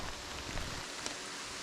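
Heavy rain falls steadily in the backcountry forest of Frontenac Provincial Park near Kingston, Ontario, making a dense, constant hiss of drops hitting the surroundings, with no voices.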